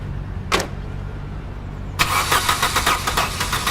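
A car engine cranks with a rapid, rough starter churn that starts abruptly and keeps going without catching, after a short earlier burst of noise, loud and close with no talking.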